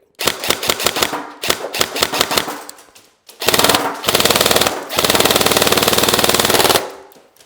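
A PTS Radian Model 1 airsoft rifle fires BBs in a fast, loud volley of mechanical cracks, then two longer full-auto bursts of rapid, dense clatter, close up.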